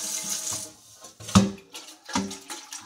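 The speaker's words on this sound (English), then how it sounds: "Put a little bit of water in there" Water poured into a container while making homemade blackberry wine, a short splashing, gurgling pour heard close and fairly loud with slight surges, and no talking.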